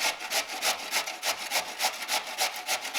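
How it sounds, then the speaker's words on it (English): Potatoes rubbed over a hand grater during home cooking prep for chapli kabab, a steady rhythmic rasping of roughly a dozen quick strokes, close and loud, with no talking. "We're gonna grate the potatoes."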